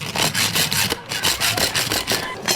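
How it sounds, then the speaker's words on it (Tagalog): Steady back-and-forth sawing through a luggage padlock, a close, rasping stroke repeated rapidly with a brief pause midway, no talking. "Kailangan lagariin ng kapatid ko kasi hindi naman to akin."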